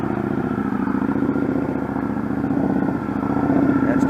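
A motorcycle circles steadily to the right during a riding lesson, its engine holding a continuous mid-pitched drone at close range with a slight swell toward the end.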